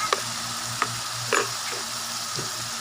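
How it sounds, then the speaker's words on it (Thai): Eel frying in a pan with red curry paste and sugar, a steady close sizzle broken by a few sharp scrapes of stirring, with no talking. "ใส่ปลาไหลลงไปเลยครับ"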